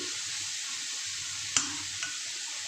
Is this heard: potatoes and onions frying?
yes